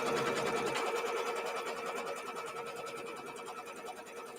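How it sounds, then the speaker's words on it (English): A sewing machine stitches out the main border of a square Peppermint Twist quilt block, giving a close, continuous, even-pitched mechanical hum and rapid needle chatter that holds steady throughout. "it is just stitching out my main border"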